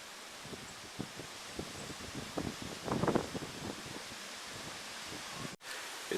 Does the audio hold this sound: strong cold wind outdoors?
yes